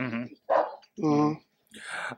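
A person imitates a dog barking with several loud, voiced yips and barks in separate bursts, near and clear, with a brief murmured acknowledgment.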